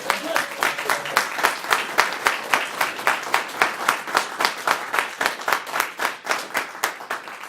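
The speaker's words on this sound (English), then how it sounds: "a loud cheer and claps for our contestants today" Steady, rhythmic clapping from a crowd at a speech evaluation contest, many hands together, continuing evenly throughout at moderate volume.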